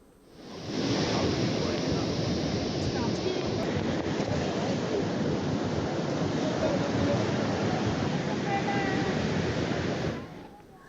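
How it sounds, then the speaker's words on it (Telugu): Rough, churning sea whipped up by Cyclone Fengal, a dense continuous roar of surf and wind noise that swells in and holds steady at close range for about ten seconds, with no voices. "ఫెంగల్ ఎఫెక్ట్తో సముద్రం అల్లకల్లోలంగా మారింది."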